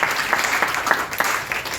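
A short burst of applause at a college Hindi department session-opening event, many hands clapping together at moderate loudness, brief and steady.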